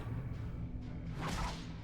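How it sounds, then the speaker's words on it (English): A rain of whips attack in the video game Darkest Dungeon, a dense rushing swish of lashing whips building to a sharper cracking flurry, loud and continuous with no talking. "That's a pretty nasty rain of whips."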